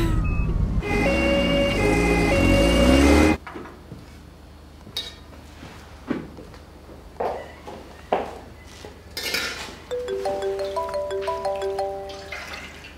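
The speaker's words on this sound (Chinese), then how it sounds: "救护车马上就到医院了" A loud ambulance siren wails with rising and falling tones for about three seconds in a Chinese TV drama, then cuts to quieter scattered knocks, clatter and faint tonal beeps.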